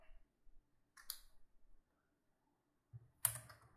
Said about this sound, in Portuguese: Vamos digitar aqui o PIN para entrar.